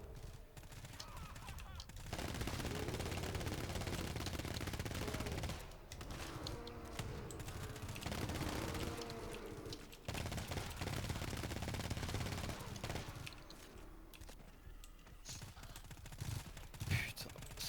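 Sustained bursts of automatic gunfire from the GTFO video game, loud and dense, in several long volleys separated by brief pauses, with voices talking faintly beneath the shooting.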